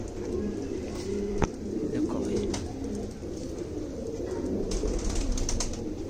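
Shiyadume breed pigeons, males and females, coo softly in a steady low murmur under ongoing background noise, while someone speaks nearby.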